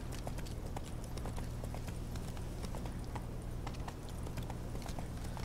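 Horse hooves clip-clop in a steady rapid gallop rhythm in the video game Witcher 3: Wild Hunt, continuous and moderately loud against a dense background of game ambience.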